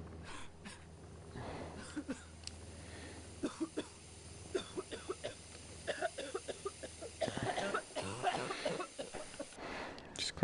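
Someone coughs repeatedly in rough, uneven bursts, mixed with throat clearing and heavy breaths, fairly close with no speech.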